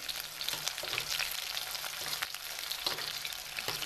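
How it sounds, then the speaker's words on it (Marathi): Green chillies fry in oil, a crisp, crackling sizzle at moderate level with a few soft stirring clicks; no voices. "चला आता हे मिरच्या किती तळून"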